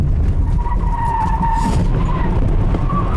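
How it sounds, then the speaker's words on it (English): A car skids with its brakes locked and all wheels sliding as the driver panics, giving a steady, loud tyre squeal with a rumbling road roar underneath that lasts throughout, with no talking. "she stabs at the brake and locks up all the wheels"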